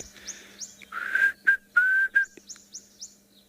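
Klaas's cuckoo calling at sunrise in the African bush, a series of clear whistled notes repeated in short phrases, fairly close and standing alone above a quiet background.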